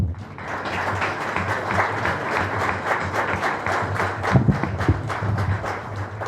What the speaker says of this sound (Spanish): si es que ustedes me van a dar un pequeño aplauso